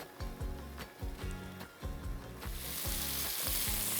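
Onions dropped into hot fat with lightly toasted garlic and ginger for Amritsari chole, sizzling loudly and steadily with spatula scrapes, building into a bright, continuous fry as the moisture hits the pan.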